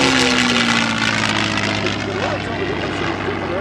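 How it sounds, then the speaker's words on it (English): P-51 Mustang warbird flying past at an air show, a loud, steady piston-propeller drone with a slowly falling pitch as it passes, a voice talking over it throughout. "here comes our P-51 coming across"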